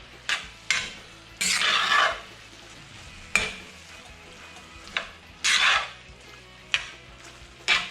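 Shrimp sizzle quietly in a pan while a utensil stirs and scrapes, giving several bursts of scraping clatter at irregular intervals over a low constant frying hiss.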